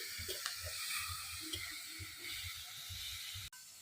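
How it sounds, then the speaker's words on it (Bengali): Shrimp frying together with green chilies in a pan for a Bengali village dish give a steady hissing sizzle, with soft low knocks and stirring sounds underneath, fairly quiet and continuous. "কাঁচা লঙ্কা দিয়ে চিংড়ি মাছ দিয়ে একসাথে ভাজা হয়ে যাবে।"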